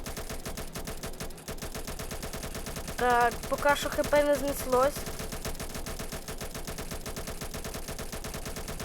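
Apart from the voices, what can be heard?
gunfire in the video game Roblox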